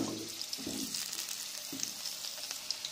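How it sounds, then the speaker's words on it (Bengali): Potato pieces fry in hot white cooking oil in a pan, a steady bright sizzle running throughout with a few soft stirring knocks of a utensil, close and alone with no talk. "আমার তেলটা গরম হয়েছে, ওর মধ্যে আলু দেব। এগুলো আগে ভেজে নেব।"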